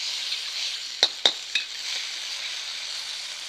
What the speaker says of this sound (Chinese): 大火的来给它拌炒